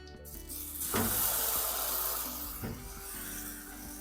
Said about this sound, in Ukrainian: На добре розігріту виливаю тісто.